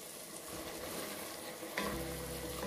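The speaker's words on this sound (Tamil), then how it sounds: "அந்த திக்னஸ் வர வரைக்கும் நம்ம அடுப்புலயே சிம்ல வச்சே கொதிக்க விடணும்" Tamarind kuzhambu curry simmering on the stove gives a steady, soft bubbling sizzle that continues evenly throughout, with a faint low hum joining near the end and no speech.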